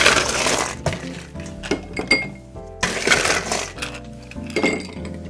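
Ice cubes tumbling into a mixing glass for a Sazerac cocktail, several loud clinking and rattling bursts with brief pauses between scoops, close and without speech.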